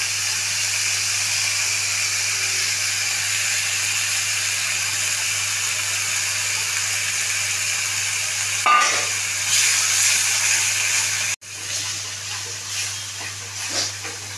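Curd is stirred into katla fish frying in a pan for Bengali doi katla, a steady loud sizzle and hiss that flares briefly and then drops sharply near the end before settling back into quieter frying.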